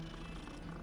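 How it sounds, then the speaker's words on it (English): A cat purrs while being petted in the Hogwarts Legacy video game, a soft, steady low rumble that continues through the whole short moment. "Kitty."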